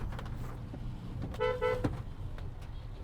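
A car approaches on a narrow rural road where a tractor is also passing, sounding a short horn toot over steady engine and road rumble.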